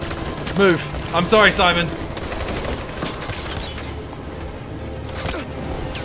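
Gunfire in the Detroit: Become Human video game crackles in a steady stream beneath a player's excited talk, which fades out partway through.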